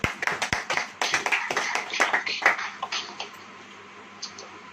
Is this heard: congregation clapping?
yes